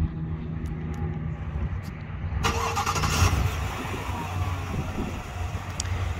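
A 2021 Chevrolet Tahoe High Country starting by remote start: a few faint clicks, then the engine cranks and catches with a loud rush and settles into a steady idle, heard nearby with no talking.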